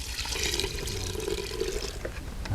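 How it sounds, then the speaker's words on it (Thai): Plain water pours steadily into a fermenting bamboo-shoot microbial mixture, a continuous close splashing fill with no talking. "ต่อไปเขาก็ เติมน้ำเปล่านะครับ"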